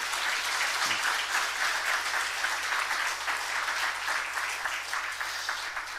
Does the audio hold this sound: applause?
yes